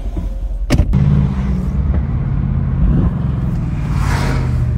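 Loud, deep exhaust rumble from a Mercedes CLS car, a dense, steady low drone close by, broken near the start by a sharp brief crack or pop, then holding a constant heavy roar.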